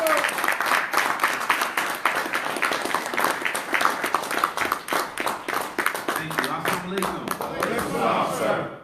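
Congregation claps to welcome a student minister at a religious service, loud sustained applause with distinct hand claps rising over a crowd, and voices calling out within it.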